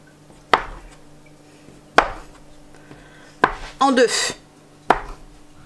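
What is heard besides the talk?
cutting dough into pieces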